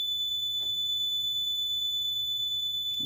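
A Simplex 3001 alarm panel's piezo buzzer sounds during its entry delay, a steady continuous high-pitched tone, loud and unbroken, with faint handling clicks beneath it.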